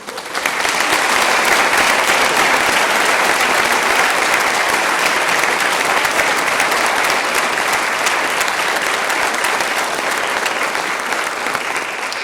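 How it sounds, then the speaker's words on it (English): Sustained applause from a large crowd at an honors convocation, steady and loud throughout with no pauses, a dense wash of clapping hands. "Please join me in a round of applause in honor of her."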